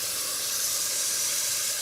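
Garlic and roasted peppers steam in a hot pan, giving a loud, steady, even hiss that holds unbroken from start to finish, with no talking.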